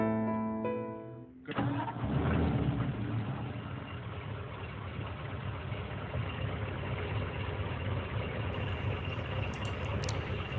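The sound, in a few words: 1951 Ford F1 truck engine running with blow-by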